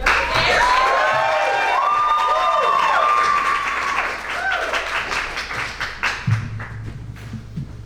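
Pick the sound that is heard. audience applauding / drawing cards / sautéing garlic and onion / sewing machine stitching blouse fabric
audience applauding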